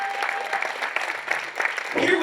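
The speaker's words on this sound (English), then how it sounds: "Let's keep that applause going." Audience applause fills a charity fundraiser auction hall, a dense steady clapping from a sizable crowd throughout, with a voice briefly heard near the end.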